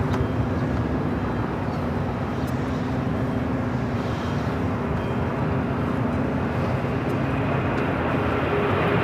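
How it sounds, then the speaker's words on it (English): A United Airlines Boeing 737-900ER bound for Houston takes off at LAX, heard as a steady, loud broadband engine roar with a low rumble holding constant throughout, no voices. "Next takeoff. United Airlines flight 2495 heading to Houston, Texas, 737-900 ER."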